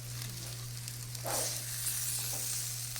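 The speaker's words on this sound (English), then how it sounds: "I'm going to try to flip the burgers and we'll see how they come out" Burgers frying on a hot cooking surface while being flipped, a steady soft sizzle with a brief louder hiss as a patty turns, alongside a constant low electrical hum.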